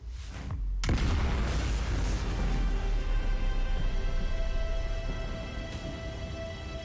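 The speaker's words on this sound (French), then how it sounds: "Au lieu que l'explosion elle soit bleue, maintenant elle est blanc." A huge explosion in the Outer Wilds video game, a sudden deep boom followed by a long, loud roaring rumble that sustains and slowly fades with a shimmering tonal wash.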